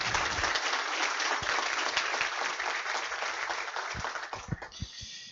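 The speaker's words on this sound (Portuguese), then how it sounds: "pedindo a todos uma salva de palmas a eles" An audience at a SESI SENAI corporate event in Joinville gives a round of applause, a dense sustained clapping at moderate volume that thins toward the end.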